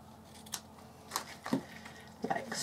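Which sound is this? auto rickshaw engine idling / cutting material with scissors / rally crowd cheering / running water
cutting material with scissors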